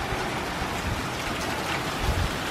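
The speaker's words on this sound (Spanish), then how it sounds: "Miren, por acá por atrás sí se aprecia más la lluvia." Rain falls steadily outdoors onto waterlogged, flooded ground, with water running off nearby: a dense, even hiss that holds throughout, moderately close, with no voices.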